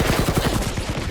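Rapid automatic gunfire in the video game Marvel's Guardians of the Galaxy, a fast steady rattle of shots close and loud throughout.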